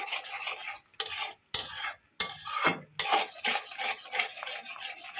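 A spoon stirs a thickening cornflour sweet mixture for bedana mishti in a pan, with repeated close scraping strokes in bursts separated by brief pauses, and no talking.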